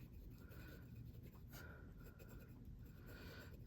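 A fountain pen filled with Papier Plume ink scratches across paper in short strokes, faint and close, with brief pauses between words and a steady background hiss.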